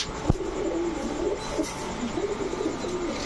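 Pigeons coo in low, repeated rolling calls at a pigeon seller's stall, close and clear over a soft background hum.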